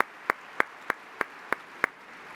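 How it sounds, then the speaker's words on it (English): Clapping for a panel of judges at a startup pitch competition finals: six crisp, evenly spaced claps at a steady beat over a quiet room background. "how about a round of applause for this great group of judges?"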